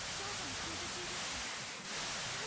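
Radio static from a poor signal in the video game Assault Suit Leynos, a steady hiss of crackling noise filling the whole moment, loud and even with faint warbling tones beneath.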